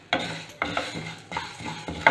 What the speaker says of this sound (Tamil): இது நல்லா பொன்னிறமாக வறுக்கணுங்க, நல்லா வறுக்கணும்.